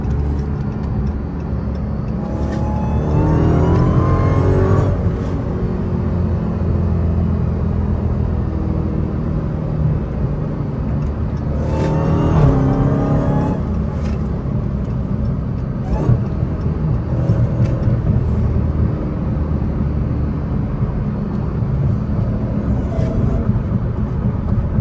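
A Dodge Charger Hellcat's engine rumbles through city traffic, with two rising revs swelling over the steady low drone of surrounding cars; voices can be heard faintly at times.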